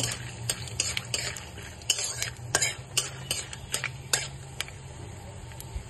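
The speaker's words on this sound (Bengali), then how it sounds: "মশলা দিয়ে একটু ভেজে নেব, যে আলু, বিট, গাজর।" Potato, beetroot and carrot stir-frying with spices in a wok, with sharp irregular clicks of a utensil scraping and tapping the pan over a low steady hiss, close and without speech.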